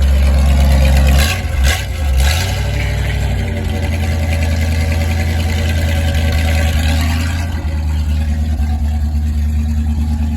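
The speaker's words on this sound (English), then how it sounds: "It's a clean exhaust until you get here." A first-generation truck engine idles steadily through its exhaust, a loud, constant low rumble running the full length without a break.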